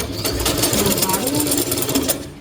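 A sewing machine stitching a homemade denim bag made from old jeans, a rapid steady mechanical whirring with a pulsing rhythm, running nearby throughout the short stretch.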